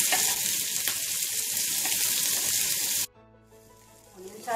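Onions sizzle in hot oil in a pan after cashew nuts were sautéed, a steady broadband frying hiss for three seconds that then cuts out abruptly, leaving a quiet low hum.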